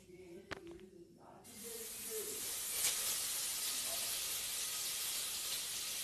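Butter hits a hot pan and breaks into a loud, steady hiss that keeps going for several seconds. Soft clinks come just before it and a brief voice sounds at the start.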